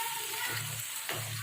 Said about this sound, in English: So now going to add cooked meat. Saute it well, nicely combine well.